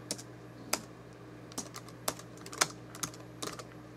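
Someone types on a computer keyboard, producing sparse, uneven clicks and a few quick clusters of keystrokes, close and clear over a quiet room hum.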